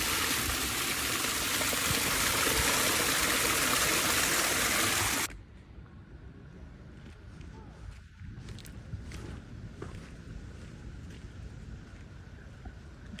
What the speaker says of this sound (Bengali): পানিটা ঠিক এইভাবে পড়তেছে।